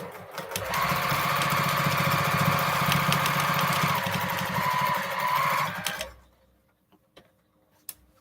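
A domestic sewing machine quilting, its steady motor and rapid needle chatter running loud and close for about six seconds before stopping, followed by a few faint clicks.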